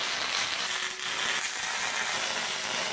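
Tack welding steel brackets onto a homemade quick-attach snowplow: a steady, crackling hiss of the arc runs close up for the whole stretch, with no talk over it.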